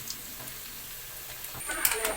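Dried meat sizzles softly in a pan, and a few brighter clinks of stirring rise near the end.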